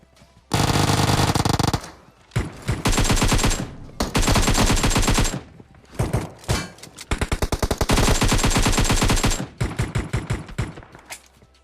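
Rapid automatic gunfire rattles in Battlegrounds Mobile India, long sustained bursts of close shots broken by short gaps, loud and dense throughout.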